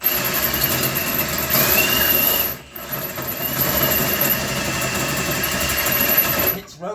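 A worn, faulty power drill runs in a steady whining buzz, stopping briefly and then restarting, close and loud with no talk over it.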